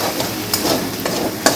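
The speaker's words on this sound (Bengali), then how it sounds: "ভালো করে একটু নেড়ে নেব।" Fish curry masala with Kashmiri red chilli powder is stirred in a pan for doi katla, a low steady sizzle with a few quick scraping strokes of the spoon, close and without voices.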